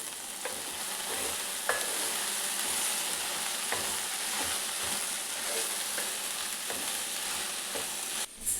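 Okra fries and is stirred in AMC cookware, a steady bright sizzle running throughout with light scraping and tapping from a utensil at irregular intervals.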